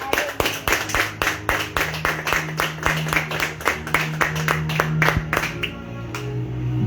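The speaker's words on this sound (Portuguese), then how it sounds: "E as palmas louvam ao Senhor." A church congregation claps in steady rhythmic unison during worship, sharp regular handclaps with a low sustained tone underneath, ending as the clapping thins out.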